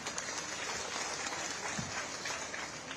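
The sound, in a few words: audience applauding at a political event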